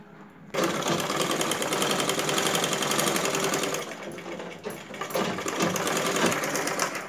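A sewing machine runs a double stitch on a blouse, starting abruptly with a fast, even mechanical chatter, close and continuous, briefly easing before resuming.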